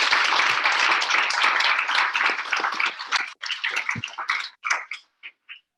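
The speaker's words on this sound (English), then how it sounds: "So guys, a quick round of applause." Audience applause at a Sydney sprint camp event in 2019, dense clapping from a crowd that thins into scattered claps and fades out near the end.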